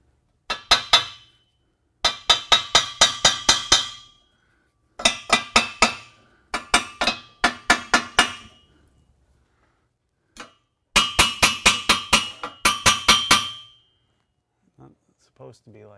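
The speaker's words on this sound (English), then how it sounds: "I need a freaking hammer." Rapid bursts of sharp metallic hammer blows on a car exhaust pipe ring out, several quick strikes per burst, separated by short pauses, close and loud.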